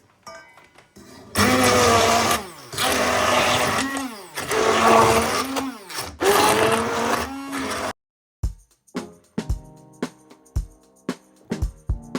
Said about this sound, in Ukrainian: Ми зараз будемо погружним блендером її все збивати до однорідної маси.